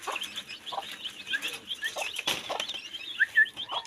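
Chickens cluck at feeding time in a backyard, with scattered soft clucks and short calls close by, alongside light pattering and rustling.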